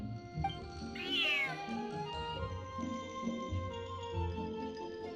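A cat meows in the video game Genshin Impact, one drawn-out rising meow over soft background music, clear and close, with no talk.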